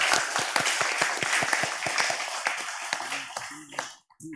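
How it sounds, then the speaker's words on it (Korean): A church congregation applauds during a Korean worship service, a burst of close, sharp claps that thins out into scattered hand strikes, with a voice breaking in near the end before a brief silence. "수고하신 분들 다시 한번 뜨거운 박수 주겠습니다."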